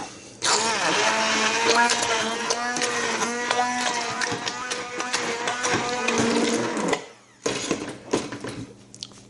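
A blender purees roasted pumpkin soup, a loud whirring motor running near-continuously, briefly stopping and restarting near the end.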